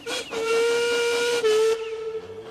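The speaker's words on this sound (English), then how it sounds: "Duncan whistled as loud and as long as he could" Steam engine whistle blowing loud and long, a close, steady, piercing tone with a hissy edge that holds for about two seconds before fading.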